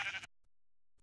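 A Minecraft sheep gives a single short bleat at the start, close and clear, followed by near silence with only a couple of faint ticks.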